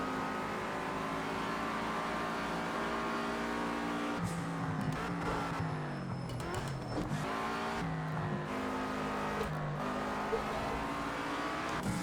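A race car engine in Project Cars 2, a six-gear car on a track, drones continuously close up, rising and falling through revs and gear changes without reaching redline.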